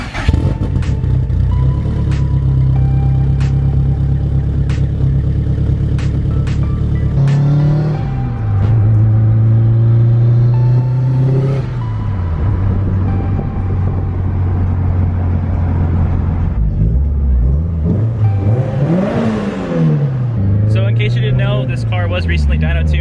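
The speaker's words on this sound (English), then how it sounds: "I'll give you some more exhaust clips of what it sounds like before we switch exhaust" A Subaru WRX engine idles with a deep stock exhaust rumble, then revs up loudly several times, rising and falling in pitch, with voices talking over it.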